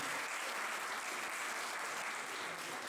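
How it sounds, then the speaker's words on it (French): Students at an integration-day ceremony applauding firefighters, a sustained, even roar of many hands clapping together, distant and fairly faint but unbroken across the whole span. "je voudrais quand même que vous applaudissez les sapeurs-pompiers qui sont là à chaque fois à temps de venir"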